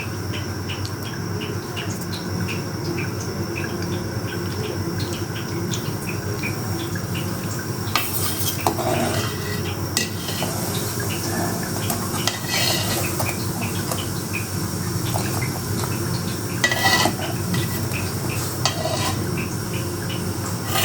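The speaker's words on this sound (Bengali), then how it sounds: "নাড়াচাড়া দিয়ে দিই।" Thai soup stirred in a pot, a continuous simmering hiss with a few faint utensil clinks against the pot.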